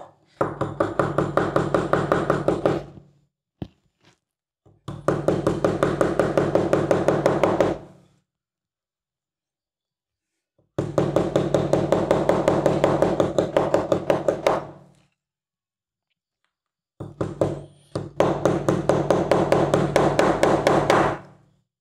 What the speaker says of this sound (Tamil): வெளியில் கல்லில் கொண்டு போய் இடி இடின்னு அடிச்சிட்டோம்ல